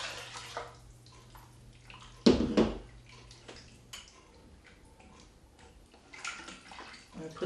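Water poured into a pan on a kitchen stove for a chicken bouillon and milk dish, a brief splashing gush followed by softer trickles and clinks, fairly faint and with no talking.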